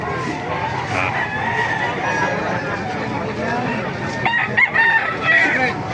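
A rooster crows at a market amid a steady hubbub of chatter and crowd noise, with other birds faintly audible.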